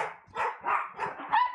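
A dog barks at a home-based hospice for dogs, giving four close, evenly spaced barks, the last one higher and whinier.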